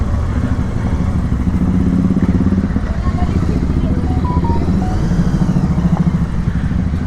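Motorcycles, a 350 and two GT 650s (one red, one chrome), running steadily nearby with a continuous engine drone and some clatter throughout.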